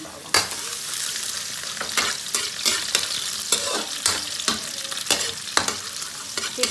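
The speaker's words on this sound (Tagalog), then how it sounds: "medyo mainit na ang ating kawali, so mag-isa na po tayo ng bawang" Garlic sautéing in hot oil in a pan makes a bright, steady sizzle broken by repeated scraping strokes of a spatula, close and even throughout with no talk.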